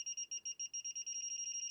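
Rapid electronic beeping from the non-contact voltage detector of a Brymen BM789 multimeter, two steady high tones pulsing in a quick regular rhythm that speeds into a nearly continuous beep, close and alone.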